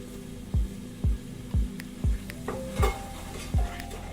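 Garam masala, salt, chilli powder and Kashmiri chilli powder get stirred through an egg gravy in a frying pan, with a faint sizzle under about seven evenly spaced scrapes of the spoon against the pan.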